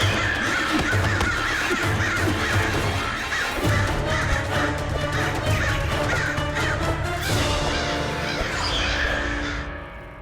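A flock of crows caws loudly and continuously, their harsh calls overlapping in a dense, chaotic swarm that lasts the whole stretch before thinning slightly at the end.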